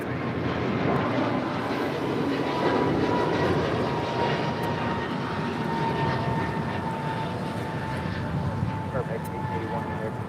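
Virgin Atlantic Airbus A350-1000 taxiing at LAX, its jet engines giving a steady moderate roar with a faint sustained whine, while people talk intermittently over it.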